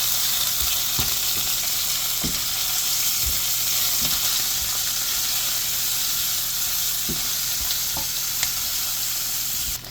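Chicken paella ingredients sizzling and frying in a pan while being stirred, a steady hiss broken by intermittent scrapes and knocks of the utensil, close up with no speech.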